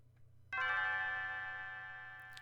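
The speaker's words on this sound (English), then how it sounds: "And the bell rings." A single bell in the video game Chrono Trigger strikes once with a bright, rich chime and rings on, slowly fading over about two seconds, over a faint low hum.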